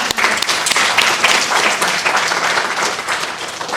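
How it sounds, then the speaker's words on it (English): An audience at a conference day claps warmly, a continuous wash of applause from many hands holding at a steady level for several seconds without speech. "Let's give her a round of applause."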